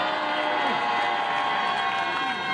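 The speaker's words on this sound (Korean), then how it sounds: "힘찬 박수 부탁드리겠습니다" Crowd at a Korean union rally cheering and clapping, a steady dense roar of many voices with applause blended in, sustained and fairly distant throughout.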